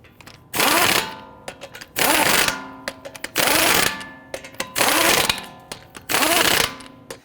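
Lug nuts snugged down on a Dodge Charger wheel with a power tool: five loud, close bursts of rattling hammering, each about half a second long, separated by short pauses.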